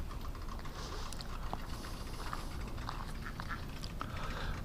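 Scattered faint duck quacks over a steady outdoor background hum, a few soft calls spread across the moment.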